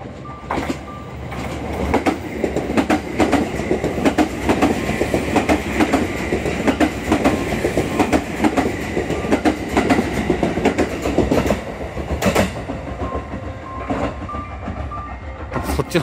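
The Sunrise Izumo sleeper train passes through Kimachi Station on the San'in Main Line, a loud close rumble with rapid clickety-clack wheel beats sustained throughout, easing slightly toward the end.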